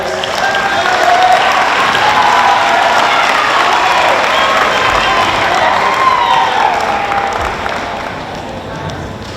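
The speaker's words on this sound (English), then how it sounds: "So let's give Ryan a round of applause" Audience applause at a school geography bee, a long, steady roar of clapping mixed with crowd noise and some cheering, loud and sustained, with a faint tonal whine running underneath.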